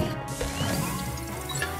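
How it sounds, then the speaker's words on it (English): Ceramic pots smashing in Luigi's Mansion 3, a loud crash with clattering debris, set against game music and background ambience, with no talking. "Smashing some pots"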